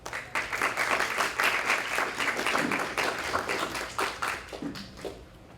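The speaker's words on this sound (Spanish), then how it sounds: "Recibámoslo con un aplauso." Audience applause welcoming an architect to a university lecture on BIM, a dense burst of many hands clapping that carries for several seconds and then thins out toward the end.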